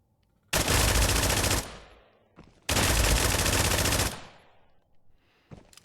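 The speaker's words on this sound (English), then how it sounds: "I got a full mag, full auto, and watch the spray on this thing." Full-auto bursts from a Vector SMG in the Exfilzone video game, two long dense sprays of rapid fire, each about a second and a half, with echoing tails and a pause between them.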